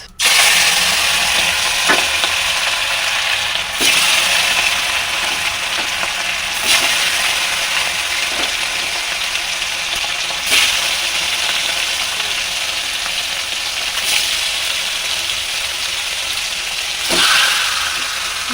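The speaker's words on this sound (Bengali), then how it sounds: "এদিকে আমার তেলটাও গরম হয়ে গেছে এবার দিয়ে দেবো মাছ" Fish sizzling and frying in hot oil in a wok, a loud steady crackling hiss that runs throughout, with occasional louder spits and bursts as the pieces hit the oil.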